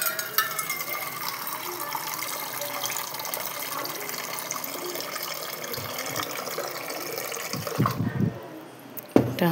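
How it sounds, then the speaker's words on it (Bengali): Water pours steadily into a pot for making milk, a continuous close splashing stream that tapers into a few gurgles and thumps at the end. "এই যে এর মধ্যে একটু জল নেব"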